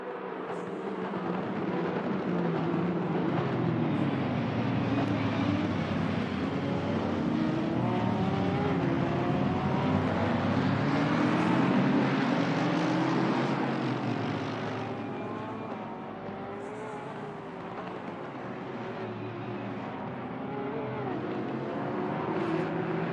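Porsche GT3 R race cars in Assetto Corsa Competizione at the Nürburgring at night, a loud and continuous engine roar with shifting pitch sweeps as the cars accelerate and change gear, steady throughout with no talking.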